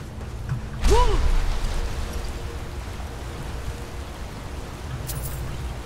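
A waterfall in Skyrim rushes as a constant broadband roar that swells suddenly near the start, with a short whooshing sweep and a low steady wash continuing to the end.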